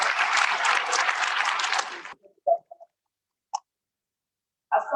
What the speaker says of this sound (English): I'd like us to give another round of applause.